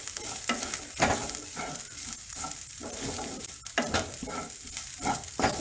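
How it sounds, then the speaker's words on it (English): Grated ginger roasting in a hot pan for a paneer dish, bright sizzling broken by repeated scraping stirs of a spatula, close and continuous with no voices. "So let the ginger also get roasted for a minute"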